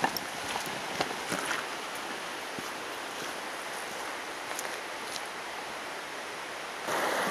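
River flowing beside a forest crossing point, a steady broadband rush of water heard close and continuous, with no voices and a slight swell near the end.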